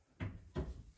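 A kitchen drawer for pots and pans in a 2022 Winnebago Micro Minnie 1808FBS travel trailer thuds shut twice in quick succession, close and fairly quiet, with no talking.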